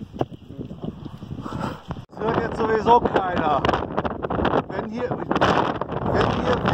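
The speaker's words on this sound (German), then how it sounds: "Wenn hier Wind ist, dann ist hier Wind." Wind buffets a microphone outdoors on Crete, a low, gusty rumble under people talking close by.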